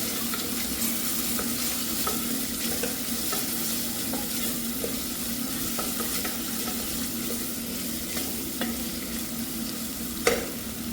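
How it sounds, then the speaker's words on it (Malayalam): Prawn rice with coriander leaves being stirred in a hot pan, a steady close sizzle with scattered clicks and scrapes of the spoon against the pan throughout. "മല്ലിയിലയും വെച്ച് ഇളക്കി കൊടുക്കാം"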